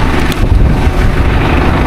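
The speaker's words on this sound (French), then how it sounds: "Il y a du vent." Wind buffets a microphone outdoors, a loud, continuous low rumbling roar with gusty surges throughout, no speech.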